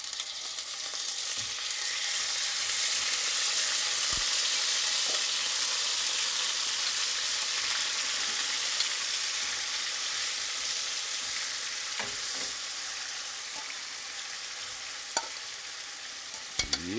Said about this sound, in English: I have my saucepan here. I just have some olive oil in there.